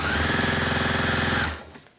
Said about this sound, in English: Sewing through that different texture fabric there, not a problem.